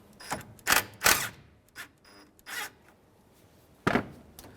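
A 10mm nut being backed off the negative battery terminal of a 2005 Honda Element: a few sharp ratchet clicks and metallic rasps in short separated bursts, close and fairly loud, with quiet gaps between.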